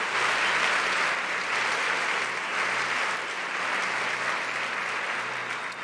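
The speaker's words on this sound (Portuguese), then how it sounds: "aplauda Jesus onde você está agora" A church crowd applauding steadily for several seconds, a dense wash of clapping that stays loud throughout.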